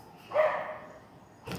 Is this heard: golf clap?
no